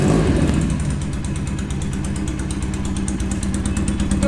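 Low-range sports motorcycle engine running steadily and smoothly at close range, a continuous low throbbing rumble with no talk over it.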